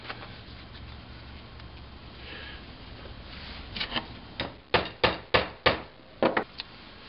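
Hammer blows drive carriage bolts into wooden tripod pieces: a few light taps, then a run of six or seven sharp, loud strikes in an uneven rhythm, close up with no talking.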